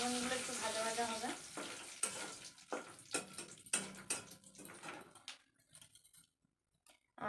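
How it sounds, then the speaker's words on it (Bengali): Panch phoron seeds crackle and sizzle in oil, a loud dense fry broken by several sharp stirring scrapes, then tapering off into quieter pops and near silence at the end. "ফোড়নগুলো একটু ভাজা ভাজা হবে।"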